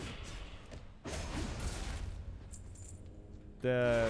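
Video game dungeon combat in Uldaman, with several sharp thuds and impacts as gunshots are reflected back, followed by a bright chiming effect at the end, and no talk heard.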